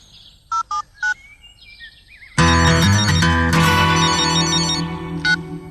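A cartoon farm telephone gives three short electronic tones, then bright music swells in loudly and carries to the end, with one more faint tone near the close.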